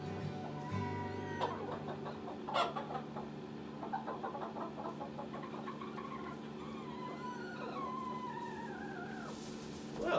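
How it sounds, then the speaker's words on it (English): Chickens cluck and cackle inside a hen house during the morning, a steady chorus of overlapping calls close by over a constant low hum, with one louder squawk early on. "Cluck goes the chicken."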